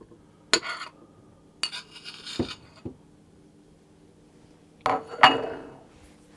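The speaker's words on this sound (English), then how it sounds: "I'm going to put my butter into the mixer, which is softened." Softened butter dropped into a stand mixer bowl for salted caramel cupcakes, heard as a few sharp clinks and knocks of utensil on bowl separated by quiet pauses.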